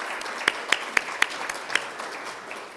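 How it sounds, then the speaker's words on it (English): Symposium audience at an ICAO TRIP regional event applauding the speakers, a moderate patter of clapping with a few sharper, louder claps standing out near the front. "So please give a round of applause to our speakers"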